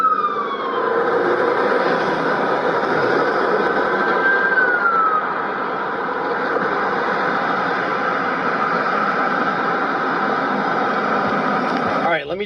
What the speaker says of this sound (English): Here come the police, lights on. Lights and sirens.